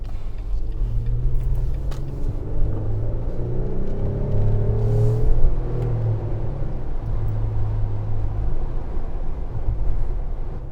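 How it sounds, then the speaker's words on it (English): A 2019 Jeep Wrangler Unlimited Sahara with the Pentastar V6 driving on a snowy road: a steady, loud engine drone and road rumble inside the cabin, with a slight rise in revs midway and no talking. "It does have a good sound to it."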